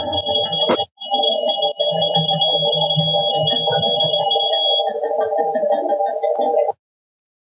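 A REM pod alarm sounds during a ghost hunt, a steady electronic tone broken by a brief gap near the start and cutting out near the end, loud and close with some low room noise underneath.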